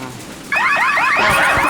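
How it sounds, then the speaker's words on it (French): An egg incubator alarm in a cartoon breaks out suddenly with a rapid, loud, warbling electronic siren that repeatedly sweeps up and down, alone, with no voices over it. "L'alarme de la couveuse."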